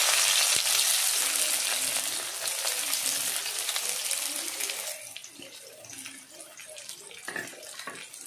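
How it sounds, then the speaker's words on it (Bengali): Chopped garlic and onion drop into hot oil with nigella seeds and set off a loud, dense hiss that gradually settles into a quieter crackle with occasional stirring scrapes. "এবার আমি এর মধ্যে রসুন আর পেঁয়াজটা দিয়ে দিলাম।"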